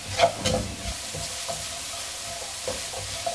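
A hot frying pan of Chinese fried rice seasoning, sugar, white pepper, salt and chicken powder, stirred with a few sharp spatula knocks and scrapes over a continuous hiss and sizzle, with no talking.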